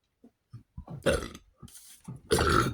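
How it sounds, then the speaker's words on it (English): A person burping after a meal of chicken ramen, salmon and potatoes, with a few short gulps leading into two loud, drawn-out belches up close in an otherwise quiet room. "I'm burping up pieces."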